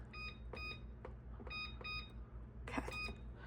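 A kitchen timer being set while mozzarella cheese is made from scratch gives a series of short, bright electronic beeps at uneven intervals over a steady low kitchen hum. A last cluster of beeps comes near the end, and no one speaks.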